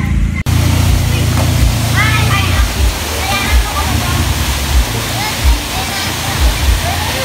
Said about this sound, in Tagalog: So guys, andito na kami sa Batis.